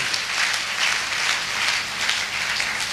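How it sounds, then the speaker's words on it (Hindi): Steady, dense applause from a seminar audience at a network marketing event in Bihar, continuous broadband clapping filling the room at moderate level, no voice over it. "इसके लिए तालियां होनी चाहिए।"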